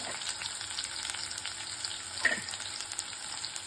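Onion and a dried red chilli fry in a pan with a bright, continuous sizzle at moderate volume, broken by one brief sharper crackle midway and no speech.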